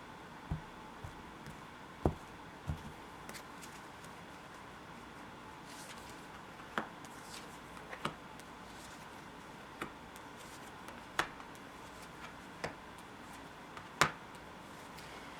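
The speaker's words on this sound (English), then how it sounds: "let's first deal out the cards" Tarot cards from the Taurus Illuminati deck being dealt out into a modified diamond spread, heard as a quiet, sparse series of soft taps and card slaps spaced irregularly over a faint room hiss, with no talking.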